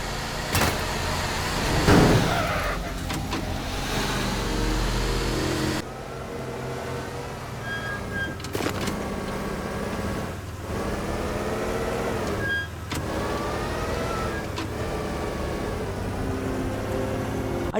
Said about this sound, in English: the audio behind the vehicles is some of the most realistic sounds I've ever heard in a game